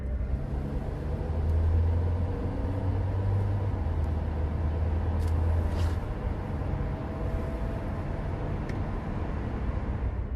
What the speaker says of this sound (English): This footage begins with a BMW speeding down the M66 motorway in Greater Manchester.